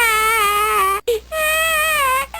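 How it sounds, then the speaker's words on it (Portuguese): A baby cries in long, loud, close wails, broken by a brief gasp for breath before the crying resumes. "É o bebê chorando."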